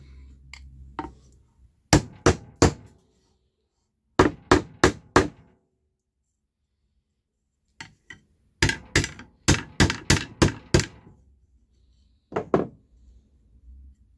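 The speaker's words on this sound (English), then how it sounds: "I've just got to hammer in the little piece so nothing sticks out" A hammer drives a small piece into wooden furniture during a glue repair, striking in sharp clustered bursts of three to five blows separated by quiet pauses, close and distinct.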